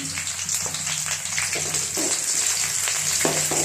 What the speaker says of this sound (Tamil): வெங்காயம் நல்லா வதங்கணும். இது கூட வரமிளகா போட்டுக்கிறேன்.